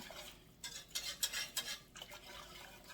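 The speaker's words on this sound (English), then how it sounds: "whisk just to get it to come together a little faster" A whisk beats pan juices in a pot for chicken and gnocchi: quiet, quick, rhythmic scratchy strokes against the metal, coming in short bursts, close but soft.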